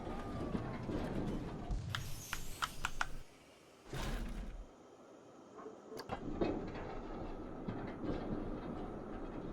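A roller coaster train in Planet Coaster runs along its track with rumbling rail clatter and sharp clicks, briefly dropping out before resuming, with a voice reacting in the background.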